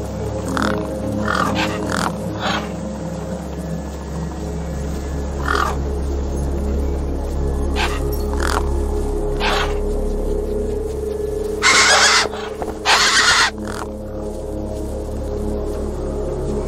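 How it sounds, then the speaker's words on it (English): Gang-gang birds in the video game Beyond A Steel Sky give harsh, repeated caws and grunts over a steady low game ambience, with several louder, sharper calls near the end. "The gang-gang birds were eyeing up the corpse hungrily."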